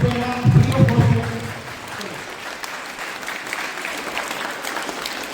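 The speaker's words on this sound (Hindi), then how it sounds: "इन बच्चों को भी मोटिवेट करें सभी, जोरदार तालियां हो जाए।" School audience applause for top-scoring students, opening with a loud voice over the crowd, then a sustained, fainter wash of clapping from many hands.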